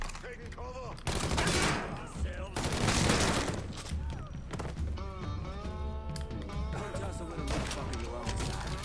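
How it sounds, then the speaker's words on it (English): Gunfire in the crime game Mafia III breaks out in loud bursts of rapid shots amid shifting game sounds and music, with no voices in the clip. "Who was shooting at me?"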